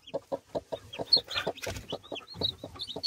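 Hens clucking near newly hatched yellow chicks in a backyard flock, a close, steady run of short rhythmic clucks punctuated by high thin peeps from the chicks.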